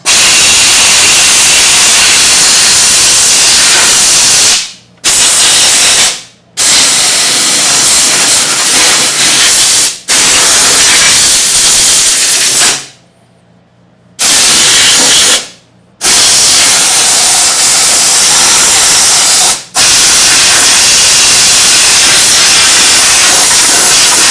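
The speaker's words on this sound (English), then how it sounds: "let me just clean off that area with a blowgun so we don't get any contaminants into the transmission" Compressed air hisses loudly from a blowgun cleaning dirt off a Hydro-Gear ZT-2800/3100/3400 transmission, in long continuous bursts broken by several brief pauses.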